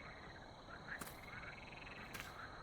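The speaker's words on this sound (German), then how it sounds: "Ich kann zumindest die Frösche wieder quaken hören." A chorus of frogs croaks steadily in the forest of the video game The Cursed Forest, faint and distant over a soft ambient hiss, with two sharper clicks standing out.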